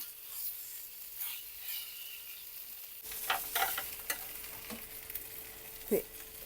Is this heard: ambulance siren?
no